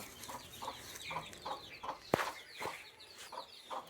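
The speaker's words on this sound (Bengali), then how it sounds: "এদিকে মুরগিগুলো দেখবেন" Chickens clucking nearby in a village yard, a steady run of repeated short clucks in a loose rhythm with one sharp louder call midway, no talk.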